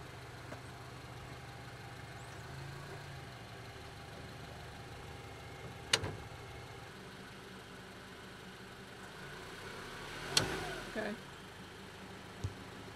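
A 2014 Honda CR-V with a Blue Ox flat-tow bar idles quietly as it backs up to lock the tow bar arms, a faint low hum broken by a few sharp clunks.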